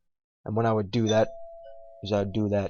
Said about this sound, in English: actually that was just the doorbell